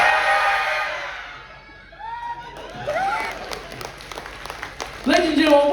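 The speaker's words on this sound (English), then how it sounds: "give these guys a massive round of applause for us" Audience clapping and cheering for guests on stage at a cruise-ship vlogger Q&A session aboard the NCL Breakaway, a broad wash of applause fading, then lively crowd noise with whoops and voices swelling again near the end.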